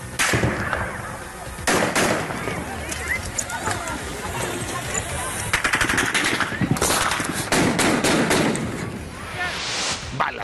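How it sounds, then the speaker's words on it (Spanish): Gunshots ring out during a mayor's speech in news footage, a rapid crackling series of loud bangs over several seconds amid commotion and voices. "Balazos interrumpen discurso del alcalde."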